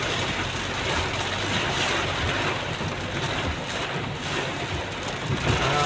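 Steady rain hisses continuously, a dense, even wash of noise with faint gusts of wind and no voices.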